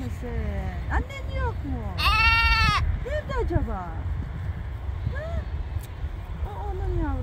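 A lamb on a farm bleats repeatedly, searching for its mother, with several loud, wavering cries close by and a person talking softly over and between them.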